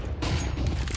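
Grenades going off in a Rainbow Six Siege pro league match, a sudden loud crash of bursts after a brief lull, with dense rumbling blasts and debris layered continuously through the rest of the moment.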